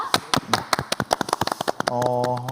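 A small group claps to welcome a speaker during an online heritage tour of Gongju's Baekje sites: a few dozen quick, uneven hand claps, then a voice starts talking.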